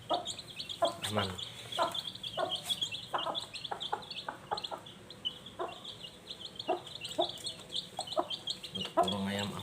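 Chickens clucking in a coop, a cluster of short, irregular clucks and calls, fairly close, over a quiet background with faint bird chirps.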